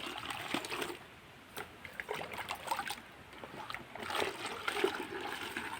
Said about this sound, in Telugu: చూడండి, ఇప్పుడు నీళ్ళు పోస్తుంది.